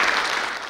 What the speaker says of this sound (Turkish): Onlar için kuvvetli bir alkış istiyorum sizden.